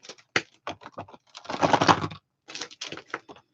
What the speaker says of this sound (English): let me put all my markers back in their little bucket